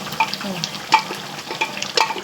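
Beef and Chinese potato cooking together in a pan, stirred to boil off the water: soft scraping stir strokes and a light sizzle, several clinks of the spoon against the pan at close range, with no talk.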